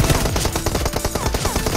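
Rapid automatic gunfire rattles in the mobile battle royale game Peace Elite, with dense overlapping bursts of shots firing in quick succession throughout, loud and close with no talk.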